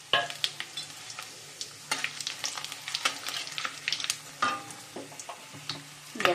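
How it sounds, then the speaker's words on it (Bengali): Whole spices (cinnamon, cloves, bay leaf and a little cumin) crackle and sizzle in hot oil, with intermittent scraping and tapping of a stirring utensil against the pan, close and moderately loud throughout. "এখন এটাকে আমি তেলের মধ্যে দিয়ে দেবো।"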